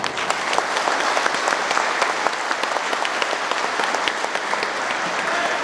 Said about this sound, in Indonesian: Sekali lagi beri aplaus.